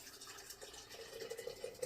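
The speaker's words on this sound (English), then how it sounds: "we're going to pour it from the pot" Soup poured from a pot into a jar makes a faint, steady liquid filling sound that rises in pitch as the jar fills toward the top.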